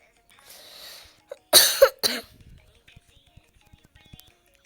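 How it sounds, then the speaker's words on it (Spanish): A person coughing hard up close, two or three harsh bursts in quick succession after a brief faint murmur, followed by scattered small clicks. "Como han visto, tengo tos."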